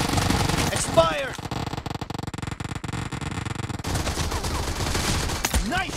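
Rapid automatic gunfire in a BGMI team deathmatch game, a dense burst of repeated shots lasting a few seconds, set between stretches of game sound and voices.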